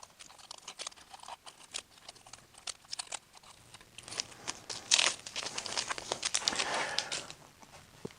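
Aluminum foil is crumpled and peeled off a bowl, giving a steady crinkling and rustling that builds into louder crackling bursts toward the end, close and with no talk.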